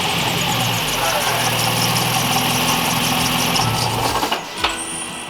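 An Infiniti G35 engine idles steadily with a low, even rumble, then a few clunks and a brief high whine from a faulty power steering pump near the end.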